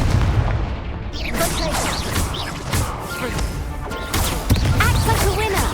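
Confringo fire-blast spells explode repeatedly during a Hogwarts Legacy duel, heavy booms and crashes layered with whooshing magic effects and battle cries over a dense, continuous game soundtrack.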